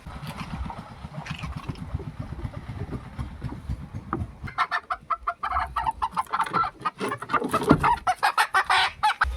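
Chickens cluck repeatedly in a rural Bengali household setting, a steady close run of short clucks that grows busier and louder in the second half, with no talk over it.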